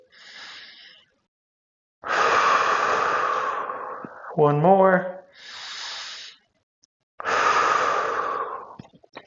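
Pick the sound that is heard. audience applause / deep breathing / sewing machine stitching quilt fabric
deep breathing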